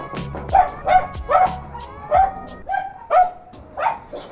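A dog barks repeatedly near a white gate on a delivery stop in the Philippines, about eight sharp yipping barks in an irregular rhythm, close and loud, with no talking.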